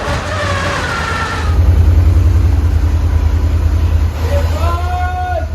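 A restored car engine catches and settles into a low, steady idle rumble, with excited voices heard before and after it starts.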